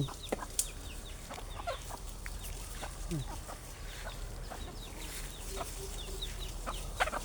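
Chickens cluck in a backyard garden, with scattered short calls and a rooster's voice over a steady outdoor background hum, no speech.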